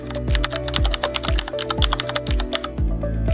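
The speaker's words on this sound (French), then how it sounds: "puis on tape." Fingers type quickly on a computer keyboard while text is entered into a PDF editor. The keystrokes are close and crisp, a steady run of clicks with regular heavier thumps mixed in, and nobody speaks.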